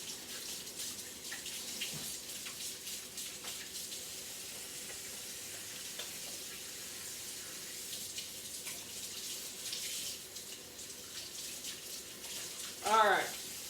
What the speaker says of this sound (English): Get my hands under some hot water